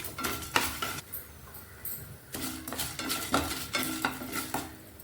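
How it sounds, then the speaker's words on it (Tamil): Coriander seeds, split black gram, whole urad and chana dal dry-roasting on a slow flame for brinjal chutney, stirred in a pan with repeated rhythmic scraping and rattling strokes over a faint sizzle, close and unaccompanied by voices. "கொத்தம்பருப்பு, உளுந்து, முழு உளுந்து, கடலைப்பருப்பு எல்லாம் சேர்த்து ஸ்லோ ஃப்ளேமில் இதையும் வறுக்கணுங்க."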